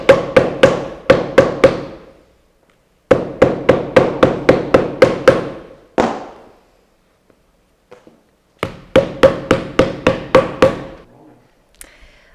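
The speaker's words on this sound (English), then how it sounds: "if you have a shoe anvil, it'll be even easier to get all the inside hits." A hammer strikes a leather sandal sole on a shoe anvil in quick bursts of five to eight sharp, ringing blows, separated by short pauses, close and loud.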